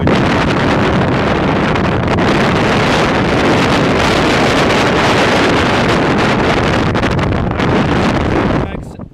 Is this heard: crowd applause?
no